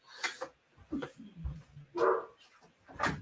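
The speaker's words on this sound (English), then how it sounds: "Yes, what you barking about?" A dog barks and whimpers nearby in a few uneven bursts, with soft yips and low grumbles between the louder barks.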